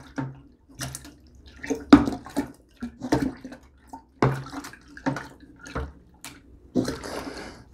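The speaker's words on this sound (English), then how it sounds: "I want to go ahead and give our mixture a good stir. Good vigorous stir." Irregular sloshing and splashing as a banana and strawberry wine mixture is stirred vigorously in a one-gallon batch, with wet swirls and knocks against the container coming in uneven bursts, close and moderate in level.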